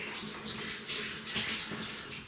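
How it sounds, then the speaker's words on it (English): Water runs steadily from a tap into a plugged kitchen sink, a continuous close splashing rush that keeps an even level throughout with no voices. "get some water in the sink"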